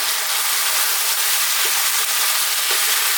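Steady loud sizzle of spice powders frying in a lamb and potato curry pan, with a few soft stirring scrapes under the hiss.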